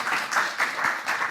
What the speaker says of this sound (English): Once again, give a huge round of applause to James.